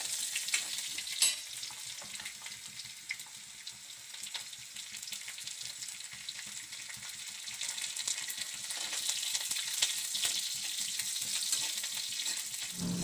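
Chopped shallots and curry leaves fry in oil for a banana flower thoran, giving a steady, close crackling sizzle with occasional stirring clatter and no speech.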